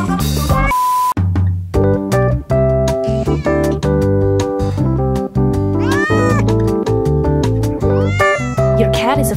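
A cat meows repeatedly in a commercial, the meows and yowls rising over a loud, busy backing of music that runs throughout.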